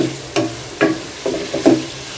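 Onion frying in a pan with a few bay leaves, stirred in several brief scraping bursts over a low steady sizzle, close and fairly loud, with no voices.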